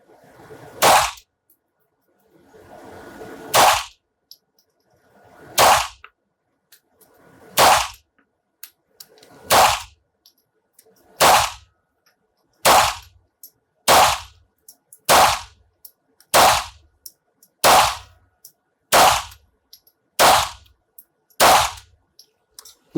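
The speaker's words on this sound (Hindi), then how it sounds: "तो पहला शॉट था डबल एक्शन में, अब follow up shot single action में होगा।" A .22 Beretta 92FS pistol fired at a 7-metre range, about sixteen sharp, loud single shots in a steady, evenly spaced rhythm, the first in double action, the follow-up shots in single action, with no talk.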